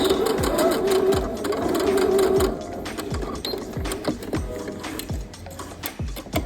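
Sewing a denim dress, a sewing machine back stitches: a loud, close run of rapid mechanical stitching, then slower individual clunks and ratcheting strokes as the stitch reverses and ends.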